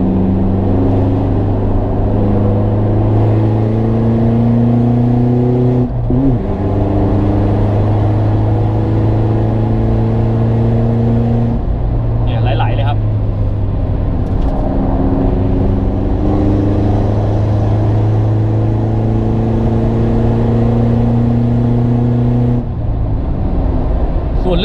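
Toyota Revo pickup with an upgraded turbo, driving with a steady engine drone that rises and falls through several rev changes, loud and close, with no talk.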